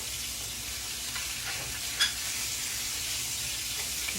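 Gravy in a frying pan hisses with a soft, continuous sizzle while being stirred, with faint scraping and one small clink partway through, quiet and close.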